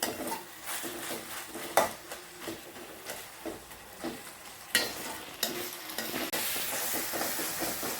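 Onions, tomatoes and ginger-garlic paste frying in a pan for a potato gravy, steady sizzling under repeated scraping strokes of a spoon against the metal, close and fairly loud, with no talking.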